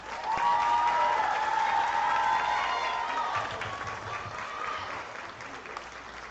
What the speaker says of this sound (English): Can we give Lauren another big round of applause?